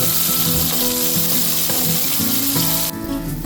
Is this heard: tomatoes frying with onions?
yes